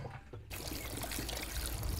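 Water pours steadily into a bottle, a continuous close trickling stream starting abruptly after a brief quiet moment, with no speech.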